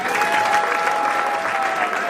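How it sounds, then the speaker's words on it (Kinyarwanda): A wedding audience applauds steadily, a dense continuous patter of many hands held at an even level throughout, with a faint steady tone running underneath. "mubareza amashyi nyamuneka"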